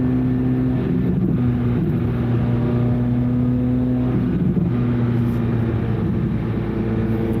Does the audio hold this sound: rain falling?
no